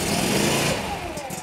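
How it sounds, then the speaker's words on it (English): A small gasoline engine on an SWC 100 portable sidewall cutter idles steadily nearby, a continuous even drone with a slight rattle and no change in speed. "when it idles for about 10 seconds, go to turn the choke completely off and let it idle for about a minute"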